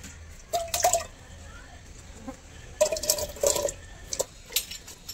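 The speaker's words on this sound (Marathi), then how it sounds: "कुकर मध्ये पाणी घालत आहे, थोडंच पाणी घालायचं" Short splashes of water poured into a metal pressure cooker, in a few brief bursts with quiet gaps between, close by.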